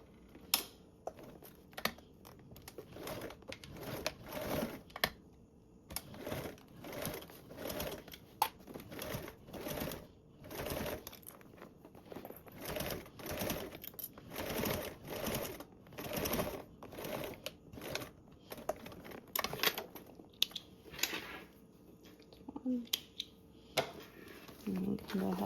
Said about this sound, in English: Now we can sew these with a 1/8 seam allowance.